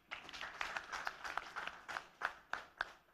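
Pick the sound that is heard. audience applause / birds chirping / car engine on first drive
audience applause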